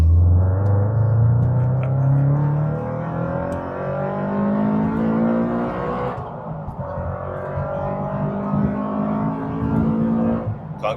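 A Subaru BRZ fitted with an induction kit accelerating hard on an open road, engine note climbing steadily through the gears with a brief dip at a shift, loud and close throughout.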